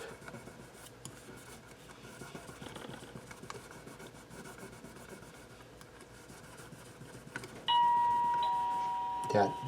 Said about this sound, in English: That door chime is my front door.